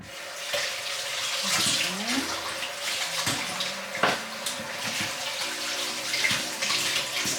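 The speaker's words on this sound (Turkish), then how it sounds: "Elimi yıkamam lazım." Tap water running steadily into a kitchen sink while hands are washed during potato salad preparation, a continuous close splashing rush with occasional clunks and small shifts in the flow, no talking.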